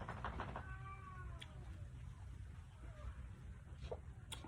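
Cats meow with rising, drawn-out cries over a steady low background noise, a few overlapping calls close by.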